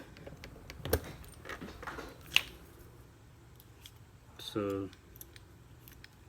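Wires of a Cat6 network cable being snipped at an Ethernet jack: a few sharp, close cutter clicks spaced apart, then a louder crunching snip, with a quiet background.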